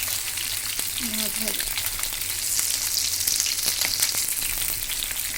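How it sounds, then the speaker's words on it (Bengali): Coral fish frying in oil in a pan, a steady close sizzle that holds throughout with small crackling bursts and no talk. "মাছ ভাজা হয়ে গিয়েছে।"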